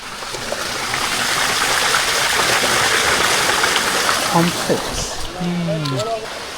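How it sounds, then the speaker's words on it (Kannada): Stream water rushing steadily nearby, with voices briefly heard over it toward the end. "ಇದೇನ್ ಜಲಪಾತನ ಇಲ್ಲ ನೀರು ಹರಿತೈತೆ"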